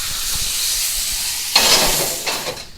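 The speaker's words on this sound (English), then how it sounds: "Hold the fat right into the hot oil for a minute." Pork chop fat for Bajan pork chops searing in hot oil, giving a loud, continuous close-up sizzle that surges sharply partway through as the fat is pressed in, then slowly settles.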